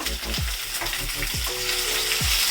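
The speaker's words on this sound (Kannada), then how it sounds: "ಇದನ್ನು ನೀಟಾಗಿ ಇವಾಗ ಫ್ರೈ ಮಾಡ್ಕೋಬೇಕು. ಎಲ್ಲದನ್ನೂ ಒಂದೊಂದನ್ನು ಫ್ರೈ ಮಾಡ್ಕೋಬೇಕು." Lengthwise-sliced onions and half a tomato frying in oil for biryani give a steady close sizzle, broken by a few soft clicks and scrapes from stirring.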